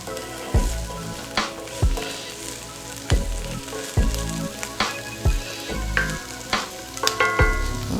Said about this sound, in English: And as you can hear, it's sizzling. That means my pan is hot and it's getting started already.